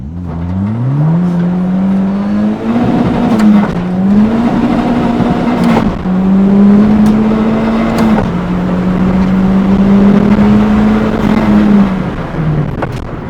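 Budget Honda EG fitted with a K23 head and turbo pulling hard under acceleration, its loud engine drone rising through several gears with brief dips at each shift, heard from inside the car.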